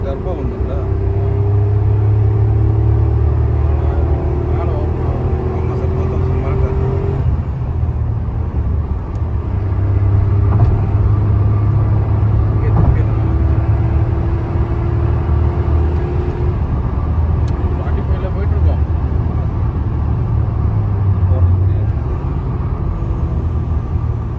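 A steady, loud low engine drone and road rumble inside the cabin of a Tata Altroz Racer under hard acceleration, with slow rising tones as gears climb, continuous throughout while someone talks over it.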